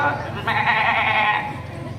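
At a school mimicry performance, a person's voice imitates a goat bleating, with one sustained, wavering bleat of about a second, close and fairly loud over low background murmur.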